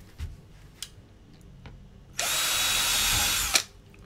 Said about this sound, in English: I've just drilled a few holes there, a couple up the other end